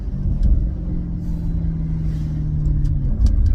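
Deep engine roar from a stage 1 remapped Maserati GranTurismo S accelerating hard in first gear, a steady low rumbling drone with a rising tone, loud and close throughout.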